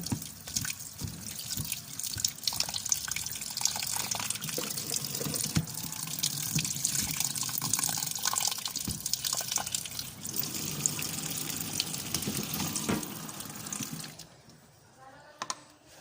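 Mulberry fruit is washed under a running tap, with water splashing and trickling steadily close by for most of the stretch before the flow stops near the end.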